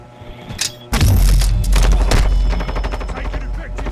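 Sniper gunfire in the video game Call of Duty Warzone: a sharp loud shot opens a rapid burst of repeated gunfire that slowly tapers off, with a player's voice faintly underneath.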